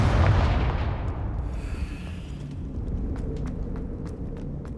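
Confringo blasting spell explosions in the video game Hogwarts Legacy, a deep rumbling boom that decays slowly into a low roar, with small crackling pops scattered through the tail.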